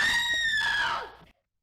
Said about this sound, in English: these screams are something